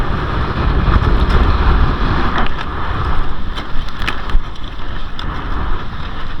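Strong wind at sea buffets the microphone with a loud, continuous roar, along with a low engine-like rumble and occasional sharp clatters, on a lobster fishing trip.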